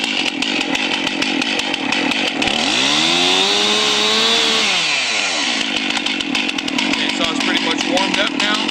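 A chainsaw engine roars to life, revs up and down once, then settles into a loud, steady rattling idle.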